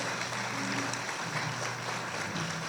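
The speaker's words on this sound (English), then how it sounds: "So give yourselves a round of applause" An audience at a Chamber of Commerce annual meeting and business awards evening claps together, a brief, full round of applause at steady loudness, with a low hum of the room underneath.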